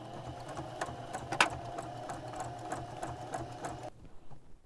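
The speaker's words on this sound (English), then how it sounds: "We're just going to go ahead and top stitch." A sewing machine top-stitches a pocket onto a smock apron in a continuous rapid chattering run with a few sharper clicks. It stops abruptly near the end, leaving a quiet room.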